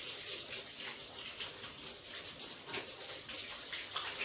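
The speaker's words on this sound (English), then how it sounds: "And we're going to wash our hands." Warm tap water runs continuously while hands are washed at a kitchen sink during a cooking class, a close, steady splashing rush with small fluctuations and no talk.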